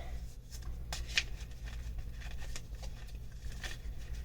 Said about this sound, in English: I'm going to shuffle on screen